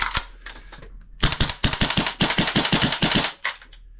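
Tokyo Marui gas blowback airsoft rifles firing in close, loud bursts of sharp cracks, a few single shots leading into fast rhythmic strings with brief pauses between them.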